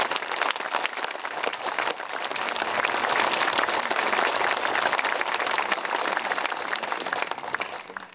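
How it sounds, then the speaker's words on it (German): A crowd at an outdoor Pentecost Monday forest church service gives dense, sustained applause that swells and holds for several seconds before tapering off. "da können wir erstmal einen fetten Applaus geben an alle"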